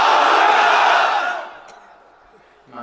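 A large crowd of married men at a religious gathering shouting the takbir together, one loud unified roar of voices that swells and then fades away.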